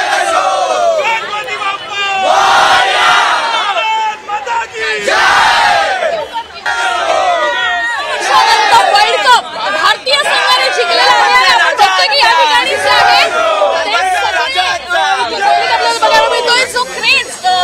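A large crowd of cricket fans gathers at Wankhede Stadium in Mumbai, with loud, continuous chanting, shouting and excited chatter that rise in bursts of cheering, all up close.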